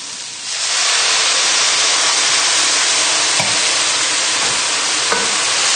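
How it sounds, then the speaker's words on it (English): Wine poured into a hot pan of mushroom risotto bursts into a loud, dense sizzle after a half-second, then holds as a steady roaring hiss with a couple of faint clinks. "So we can add the wine in now."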